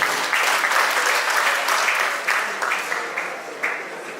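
Steady audience applause fills a comedy show in Rwanda, dense broadband clapping that holds for several seconds and slowly thins toward the end, with no talk over it.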